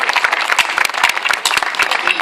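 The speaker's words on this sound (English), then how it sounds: "a big round of applause for the beautiful lady Pia" Audience applause at an awards ceremony at the Leela in Delhi, a steady mass of clapping with some crowd murmur and voices mixed in.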